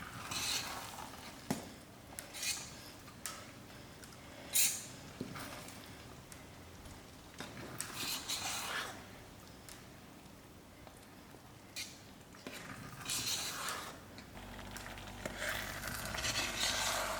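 Margarine melting in a pot for rich sweet rice, a soft low sizzle with scattered clinks and scrapes of a utensil against the pot, quiet and close with no talk.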